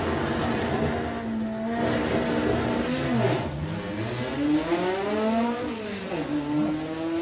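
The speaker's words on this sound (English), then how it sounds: "So Tom's going to get to the finish line first" VW Beetle drag cars launch down the strip at Santa Pod, engines revving hard and rising through the gears with dipping, climbing pitch as they accelerate away.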